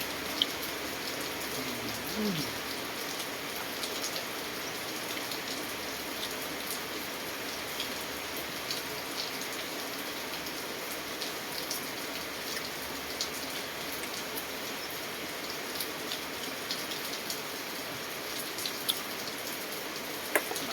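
Steady rain falls outside an old kitchen, a constant even hiss of drops on surfaces lasting throughout, with no talking.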